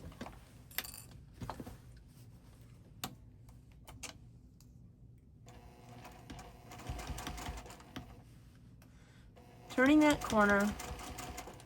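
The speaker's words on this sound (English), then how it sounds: "and sewing it down on the same track as I was before" A sewing machine stitches down quilt binding in short bursts of mechanical whirring, interrupted by pauses, with someone talking over it.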